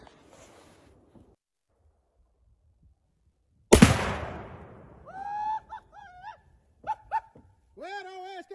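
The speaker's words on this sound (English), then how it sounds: "Well, the old SkS set it off, man." A single loud SKS rifle shot fired at old flat-screen TVs cracks out sharply with a long decaying rumble, preceded by faint quiet noise and followed by a dog barking repeatedly nearby.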